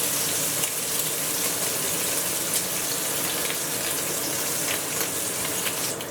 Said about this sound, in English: you hear the sound of the bacon sizzling in the pan